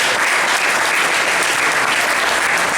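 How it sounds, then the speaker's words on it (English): Wedding guests at a reception break into loud, dense applause for the families during a speech. The clapping is continuous and close throughout the short stretch, with no speech over it. "So, big round of applause for the families."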